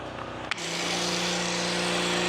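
A pressure washer starts spraying after a short click and then holds a loud, steady rushing hiss. The surface is being washed down before foam is applied.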